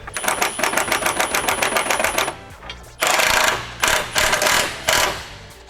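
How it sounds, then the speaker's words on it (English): An impact wrench on a low setting snugs subframe brace bolts on a Nissan 350Z, giving a loud rapid hammering burst followed by several shorter bursts with gaps between. "I'm just gonna put my impact on a low setting and we'll just like get them a little snug"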